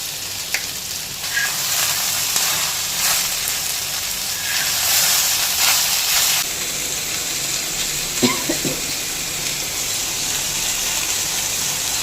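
Okra with curry leaves fries in hot oil in a pan, giving a steady loud sizzle with brief crackles and a few stirring clatters, no voices.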